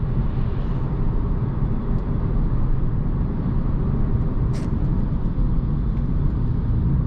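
Interior of an Audi A3 1.5 TFSI sedan driving on a road, a steady low engine and road rumble throughout as the car brakes on its own, with a brief faint high chirp midway.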